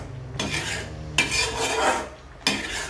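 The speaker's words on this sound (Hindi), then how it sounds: "तो एक बार हम मसाले को चला लेते हैं।" Masala with kasuri methi for a mixed vegetable sabzi stirred in a pan, three separate bursts of gritty scraping strokes with brief gaps between them, close and clear, no speech.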